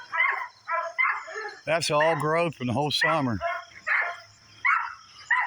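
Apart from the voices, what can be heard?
dog barking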